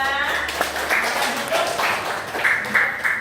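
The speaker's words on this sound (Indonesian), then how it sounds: "Beri tepuk tangan kepada kelompok 2." A class applauds a group after its presentation, with scattered clapping that mixes with voices and room noise, moderately loud but not sharply defined.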